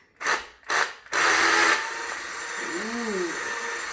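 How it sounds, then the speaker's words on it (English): Power drill boring into the center of a wooden piece: two short bursts of whirring, then a longer sustained drilling run that settles into a steady mechanical hum, close and loud. "now I'm just going to take my drill and drill at the center of my wood"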